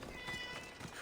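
A cat meows in the game Assassin's Creed Odyssey, a faint sustained harmonic cry heard over a low background wash of game ambience.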